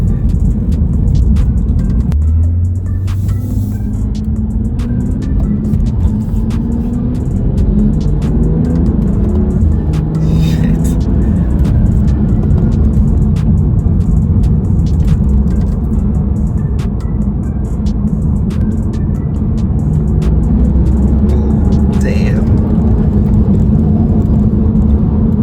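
A BMW 335i F30 with the N55 engine and a pedal tuner accelerates, its engine a steady loud low drone heard from inside throughout, with rising tone and no talk.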